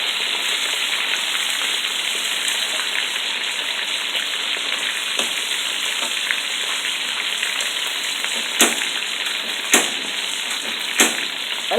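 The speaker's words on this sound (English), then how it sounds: "when you're frying more than one fish, make sure you put them head to tail" Fish sizzles and crackles steadily in hot oil with dry thyme and garlic, a dense continuous hiss broken by a few sharper pops near the end, close and loud without talk.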